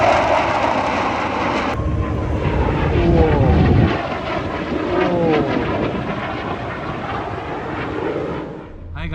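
Aircraft engines roar at the Dubai Airshow, with a loud, close engine rumble and a passing airplane sweep mixed with crowd noise and voices talking over it.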